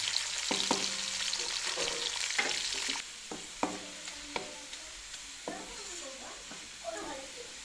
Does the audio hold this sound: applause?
no